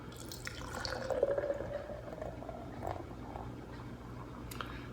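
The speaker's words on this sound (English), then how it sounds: "let's give it an aggressive pour like I always do" A can of Rolling Rock Extra Pale beer is poured hard into a glass, making a close, gurgling, fizzing stream of liquid that swells early on, then settles into soft foaming hiss and occasional drips.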